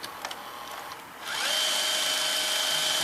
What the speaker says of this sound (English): When it stops, it reloads the tape and rewinds it